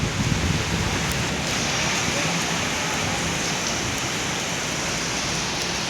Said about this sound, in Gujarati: પાણી જાય જોરદાર